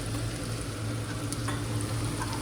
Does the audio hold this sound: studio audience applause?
no